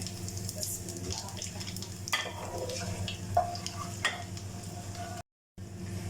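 Whole star anise, cloves, black peppercorns, green cardamom and cumin roast in a hot pan for a chicken pulao, giving a continuous soft sizzle with light stirring scrapes and an occasional small clink of a utensil.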